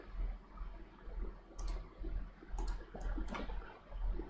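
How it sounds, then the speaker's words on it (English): Several crisp computer mouse clicks, about four or five sharp ticks spaced unevenly, sound over a steady low hum, near and fairly quiet. "right click, left click, right click, left click to escape from this"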